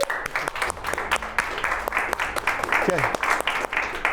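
Clapping during a team takt-time simulation exercise, a run of sharp claps with several hands joining, under people talking nearby; one short spoken word.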